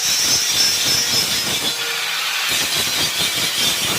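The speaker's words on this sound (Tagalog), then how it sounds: "mag-grinder ka na dyan" An angle grinder works metal on a welding job, giving a loud, steady, hissing whine that runs unbroken for the full few seconds, with no voices over it.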